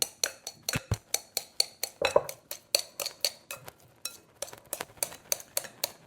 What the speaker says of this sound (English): Now I'm just gonna chop my eggs up